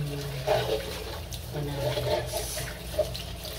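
Running tap water pours steadily over washed dishes being rinsed of soap in a sink, a continuous moderate hiss with faint clinks and splashes.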